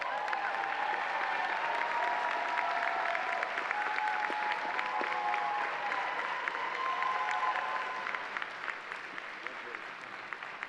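Sustained applause at a medical school hooding ceremony honoring award winners, a dense wash of clapping from a large audience in a hall with faint voices mixed in, tapering slightly toward the end.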